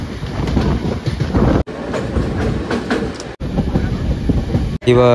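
A Diva–Chiplun MEMU train rumbles along the rails with a steady, loud clatter, heard in a few cut-together stretches, with voices briefly at the end.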